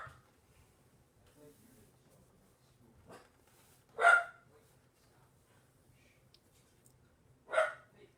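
Dog barking indoors: two sharp, separate barks spaced a few seconds apart against a mostly quiet background, with faint low sounds between them.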